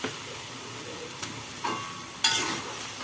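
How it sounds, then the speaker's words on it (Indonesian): A spoon stirs a pot of soup with boiled eggs on the stove, soft scraping and clinks over a low bubbling simmer, with a few sharper knocks against the pot. "Kita aduk ya teman-teman."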